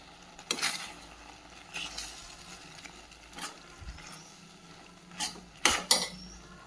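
Pasta being mixed into a white sauce in a pan, heard as a few scattered utensil scrapes and clinks against the pan, moderately close, with quiet stretches between the louder strokes.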